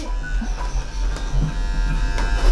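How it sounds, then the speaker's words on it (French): Electric clippers shaving the upper body fur of an animal at a veterinary clinic, a close, steady buzzing drone throughout with slight changes as the blade moves. "là on est en train de raser donc toute la partie supérieure"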